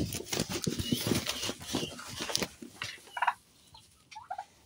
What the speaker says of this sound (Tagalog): ito po yung pabo natin